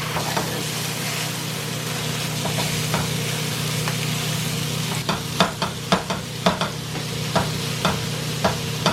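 Bison meat sizzling in a hot pan, with a steady frying hiss and a low hum, then a run of sharp spatula clacks and scrapes against the pan about halfway through.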